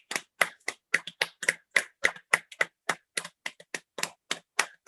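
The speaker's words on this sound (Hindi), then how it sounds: "वहां बैठे बैठे तालियां बजा के स्वागत कीजिए" A single person clapping to welcome a guest on a special program, about two dozen crisp, closely spaced hand claps in a steady rhythm, close and dry with no other sound.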